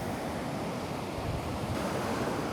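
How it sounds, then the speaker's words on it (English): Ocean waves wash in on the shore, a continuous broad roar of surf mixed with wind buffeting the microphone, steady and fairly loud throughout. "You can see this water is really coming in now."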